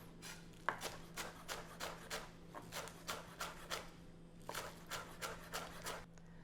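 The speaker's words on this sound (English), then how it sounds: "I'm going to go ahead and chop the green onion." Knife chopping green onions into small pieces on a cutting board, a steady run of crisp, evenly spaced close-up chops with a brief pause midway, under a constant low hum.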